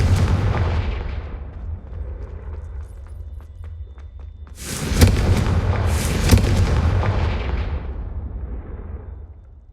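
A Confringo spell explodes in the video game Hogwarts Legacy with a deep, heavy rumbling boom, then a second loud blast that rolls and fades over several seconds.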